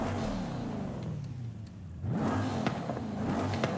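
A turbocharged car's exhaust in the Forza Horizon 5 racing game drones and rises through the revs, dips briefly as the throttle lifts, then climbs again with a whirring induction tone, close and steady.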